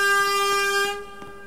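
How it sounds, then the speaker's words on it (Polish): A train horn sounds in the railway simulator game Makieta Barcikowo: one loud, steady, multi-tone blast that cuts off after about a second, leaving quiet background. "możecie trąbić"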